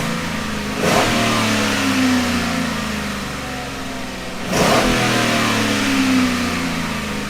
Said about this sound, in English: But it just sounds like engine sound, really.